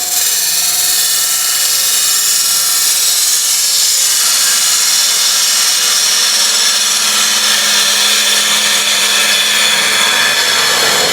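A woodturning lathe cutting UK fan palm wood, a steady loud broadband hiss and whir of the tool on the spinning blank, continuous throughout with no talk.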